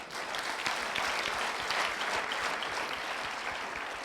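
Audience clapping at a youth forum in Kigali, dense sustained applause from a large crowd filling the hall, steady and even throughout without a break.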